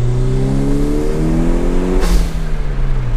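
A Toyota MR2 Turbo engine revs up loudly with rising pitch, intake sucking audibly, then a sharp whooshing turbo release as it shifts and keeps pulling, close by.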